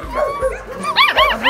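Young puppies, still growing, yip and bark in short, high-pitched bursts close by, with a whimpering quality; a voice can be heard briefly.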